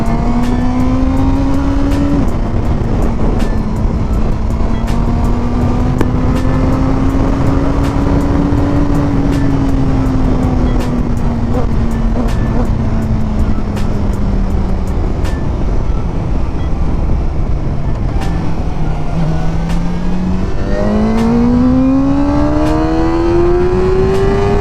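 A 2024 KOVE 450RR motorcycle engine revs steadily up and down, its pitch climbing and falling in long sweeps, close and loud with no talk.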